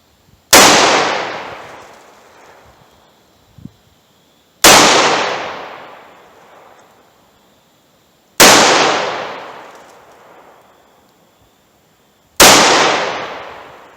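Taurus 605 revolver firing four loud, close shots a few seconds apart, each a sharp crack that rings out and decays slowly, with a small click between the first two shots.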